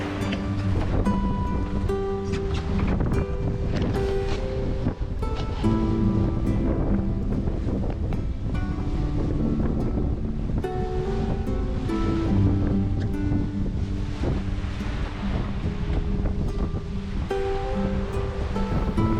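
Strong wind and breaking waves wash steadily around a sailboat at sea off French Polynesia, a dense continuous roar close to the microphone with no voices.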